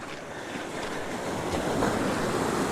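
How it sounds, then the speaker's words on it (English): Ocean waves break and wash over rocks at 1770, Queensland, a continuous close roar of surf with wind buffeting the microphone and no pauses. "We have waves and we have rocks."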